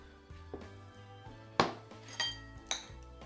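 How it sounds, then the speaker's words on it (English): Panettone slices being laid into a dish, a few soft thuds and sharp clinks of utensils against the dish at irregular intervals, close and quiet. "And then you just arrange your slices in your dish like so."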